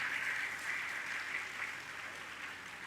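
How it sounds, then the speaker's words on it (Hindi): An audience at a spiritual discourse applauds together, a dense, steady roar of many hands clapping at moderate distance, holding for the full span and easing slightly toward the end. "अपने लिए ताली बजा लो"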